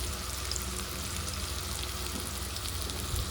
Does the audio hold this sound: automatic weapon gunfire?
no